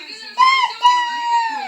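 A young child imitates a rooster crow, giving a close, drawn-out wavering cry in two quick pushes followed by a sustained note that fades.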